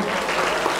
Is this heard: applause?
yes